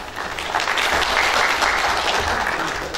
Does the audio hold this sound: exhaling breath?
no